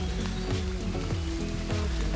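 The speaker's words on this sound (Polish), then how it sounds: "Od 3 godzin już pada deszcz, dość intensywny deszcz." Steady, intense rain falling for hours in a Mazovian forest camp, a dense continuous patter with scattered drips on nearby surfaces, no voices.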